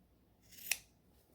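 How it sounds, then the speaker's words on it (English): A single quiet snip of scissors cutting a loose thread from a small doll cardigan, brief and close in an otherwise hushed room. "So I'm going to just snip off here at the end"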